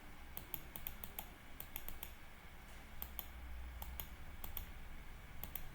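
Sharp computer mouse clicks and keyboard taps come in irregular clusters while a robot is programmed at a workstation, close and fairly quiet over a steady low hum, with no talking.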